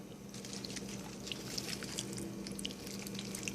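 Liquid poured over kale leaves for kale chips, a faint close trickle with light dripping and splashing running steadily over a low background hum, without any voices.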